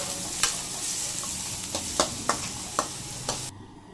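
Shallots sizzle steadily in hot oil while a spoon scrapes and clacks against the pan every half second or so, then the sizzle cuts out.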